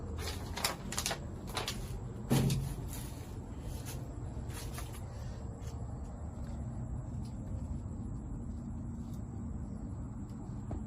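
Old kitchen cabinet doors in an abandoned farmhouse are opened, giving a few sharp knocks and clatters early on, then a louder bump, over a steady low rumble of wind and room noise.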